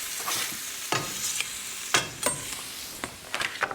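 Chopped vegetables go into a hot pan for a poblano brisket hash and sizzle steadily, with a few sharp clatters and scrapes as they are pushed and stirred close up, no one speaking.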